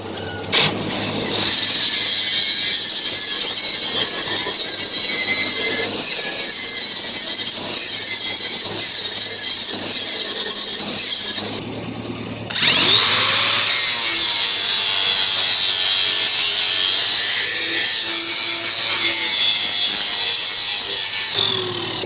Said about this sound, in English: I got to do some grinding here